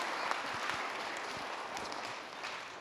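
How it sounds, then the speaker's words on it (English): Audience at a school assembly gives a round of applause for young student readers, a dense, even wash of clapping at moderate distance. "give him one more round of applause"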